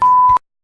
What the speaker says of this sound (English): I'm going to beep it out.